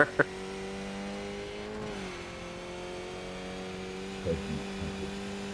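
Skip Barber Formula 2000 open-wheel race car in a racing video game, its engine holding a steady, droning tone with a brief dip and rise in pitch, steady and fairly close, with no talk over it.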